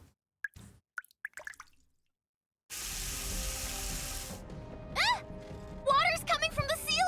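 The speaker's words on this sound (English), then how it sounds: "Water's coming from the ceiling!" Water sounds in the NIKKE video game as water comes in through the ceiling: scattered drips, then a steady rushing pour that runs on beneath characters' voices.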